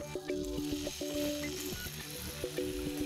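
Scallops laid into a not-too-hot pan with a drop of olive oil, giving a soft crackling sizzle with small pops and taps, quiet and close, with no one talking.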